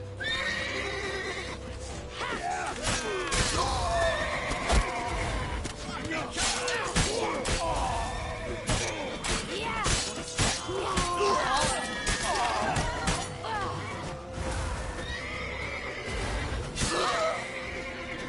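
Horses in The Witcher game neigh and whinny repeatedly amid hooves and clashing noise during a frantic chase, with shouting voices throughout.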